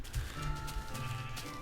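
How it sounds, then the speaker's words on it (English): Sheep bleat in the video game Minecraft, a wavering, nasal bleat that runs through most of the short stretch at moderate, close-up loudness with no talking. "There's another sheep"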